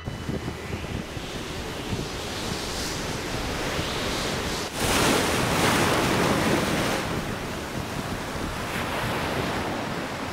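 Strong wind roars over a rough sea while waves surge and break continuously, a loud, dense wash of surf with gusts buffeting the microphone, heard alone with no voices.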